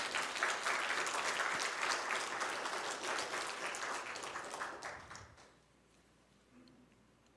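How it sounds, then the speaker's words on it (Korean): A church congregation at a Sunday worship service breaks into sustained applause that holds strong for several seconds, then fades and trails off into near silence. "다시 한번 하나님께 영광의 박수를 올려드리도록 하시겠습니다."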